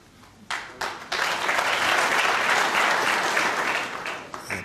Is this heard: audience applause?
yes